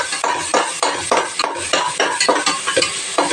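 Onion frying with ginger-garlic paste, cinnamon, cloves and fennel seeds: a loud hiss broken by regular scraping stirs of a spoon against the pan, roughly two or three per second.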